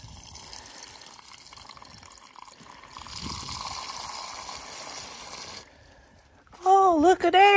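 Water runs and trickles into a homemade PVC rainwater filter system, a low steady wash that grows a little stronger partway through before easing, and a voice speaks near the end.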